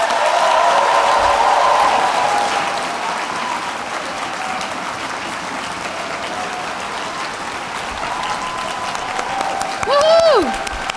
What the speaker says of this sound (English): Let's give one final round of applause for the CCM class of